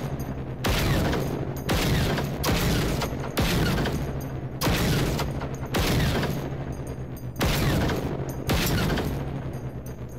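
Turrets trade gunfire in Generation Zero, heard as about nine loud, rapid bursts of automatic shots separated by short gaps, each burst lasting under a second.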